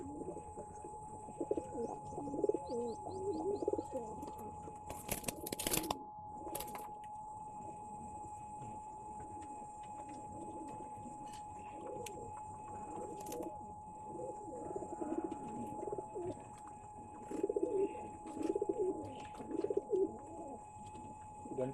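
Pigeons at a bird sale coo softly and repeatedly in low, rolling bursts, with faint chirps and a steady background hum. No one speaks.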